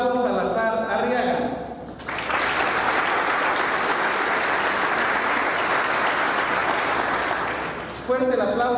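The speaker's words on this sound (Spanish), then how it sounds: "Fuerte el aplauso también para la presidenta del DIF municipal" Someone speaks briefly, then sustained applause from the audience at a formal municipal swearing-in session swells and holds for about six seconds before his voice returns.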